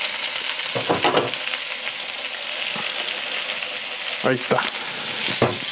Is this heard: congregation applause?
no